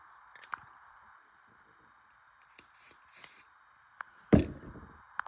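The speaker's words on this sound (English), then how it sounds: "Before you do your initial spray, kind of like blow out whatever's in your spray can." Spray paint can blown out to clear a clog before painting a rifle, giving a few short hissing bursts and a louder sputtering spurt near the end, close and alone.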